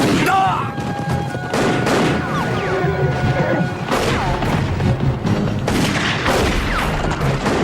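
Gunfire in a western film shootout: a dense fusillade of loud, close shots and crashing impacts, with a shouted voice and music under the bursts.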